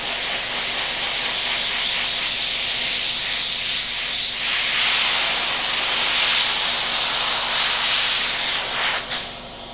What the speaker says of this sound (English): Sorry the air compressor's on